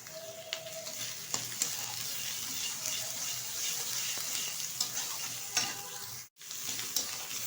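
Mughlai filling sautéed and stirred in a pan: a fairly quiet continuous sizzle with intermittent scraping and light knocks, broken by a brief moment of silence near the end before the frying resumes.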